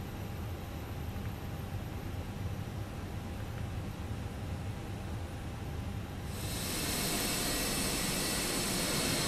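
Jet engines of an Airbus A320-212 spooling up for takeoff in Flight Simulator 2020, a steady broadband roar and hiss that swells louder around the six-second mark and holds there, with no talking.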